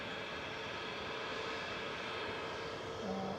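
Airliner OMGTJ rolling out after landing at Manchester Airport, a steady broad engine roar held at one level throughout, heard from a distance with a faint tone near the end.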